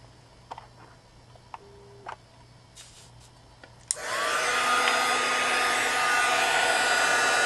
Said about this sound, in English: This is the heat tool.